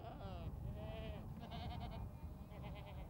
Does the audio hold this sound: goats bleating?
yes